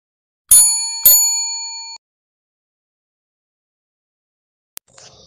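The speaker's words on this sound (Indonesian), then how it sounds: "Akhirnya, ia membunyikan bel." A bell rung twice in quick succession, each sharp ring leaving a bright, fading tone, then a brief click and faint rustle in otherwise quiet surroundings.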